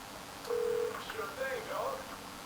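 Phone keypad tones dialing to call a car in Saints Row 3, a sustained beep then several short tonal blips, moderate in level over low game ambience with speech-like sounds mixed in.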